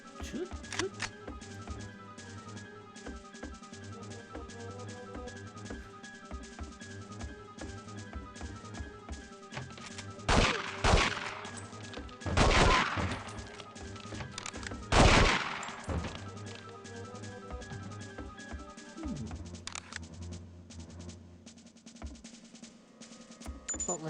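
Video game gunfire crackles in bursts over a steady game soundtrack, with several loud clusters of rapid shots midway through and a voice talking over parts of it.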